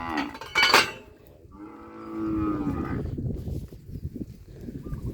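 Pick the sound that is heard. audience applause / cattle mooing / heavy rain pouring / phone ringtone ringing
cattle mooing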